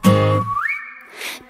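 Whistling from a YG Entertainment pop song rings out clearly as one bright sustained tone that slides upward and holds. A short beat-like burst follows, with no singing over it.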